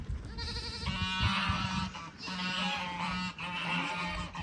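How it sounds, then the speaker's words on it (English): Several geese honk repeatedly in loud, nasal overlapping calls, fairly close, continuing for a few seconds with brief pauses between bursts. "Look at those geese."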